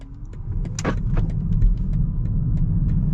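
Road traffic: a car rumbles past nearby, its low engine noise swelling and lingering, with faint clicks and knocks in the background and no talking.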